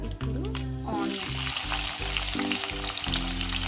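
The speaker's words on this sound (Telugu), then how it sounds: "ఒక 2 పెద్ద సైజ్ ఆనియన్ కట్ చేసి పెట్టుకొని వేసుకుంటున్నాను నేను" Two large cut onions hit a hot oiled pan and sizzle loudly while they fry for a Tamil Nadu style fish curry. A quick clatter at the start is followed by a steady, dense crackle that runs close up throughout.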